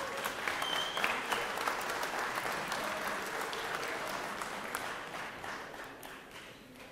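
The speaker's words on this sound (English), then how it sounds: "Please give him a round of applause." Steady applause from a sizable crowd, a continuous patter of clapping that stays even before easing slightly toward the end.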